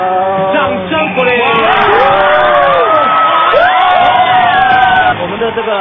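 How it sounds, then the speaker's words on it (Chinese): A studio audience at a Chinese TV singing competition cheers and whoops loudly, a dense continuous roar of many voices with tonal vocal sounds running through it and no pauses. "掌声鼓励。"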